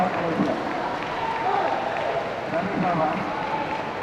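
A crowd cheers from the sideline at a men's sepak takraw final between Malaysia and Thailand, a dense, steady roar of voices and clapping filling the arena, with a commentator talking over it.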